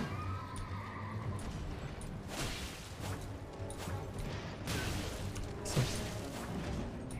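Horses neigh and whinny repeatedly in a chaotic Elden Ring battle, with clip-clopping hooves and crashing combat noise behind them, fairly faint in the mix.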